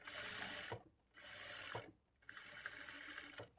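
A sewing machine stitches a dart on a blouse back piece in three quick bursts of rapid whirring, each stopping abruptly with a soft clack, quiet and close with brief pauses between runs.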